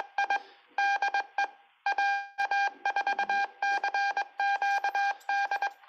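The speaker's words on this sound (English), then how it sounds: "So you can hear its CWID as it gets going." A CubeSatSim satellite simulator starts transmitting amateur radio telemetry on the 70 cm UHF band and sends a CW identification: loud, clean electronic beeps in quick Morse bursts with short gaps, heard alone without speech.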